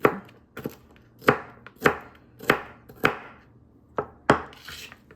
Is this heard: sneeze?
no